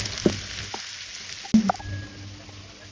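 Dried red chilies and chopped onion frying in hot oil for a lentil dal, a steady close sizzle with a couple of sharp stirring knocks and scrapes, no voices.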